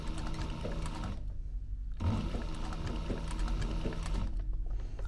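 An industrial sewing machine stitching around a corner of a duffel bag, a fast close-up mechanical whirring run that stops briefly twice as the bag is turned, then restarts.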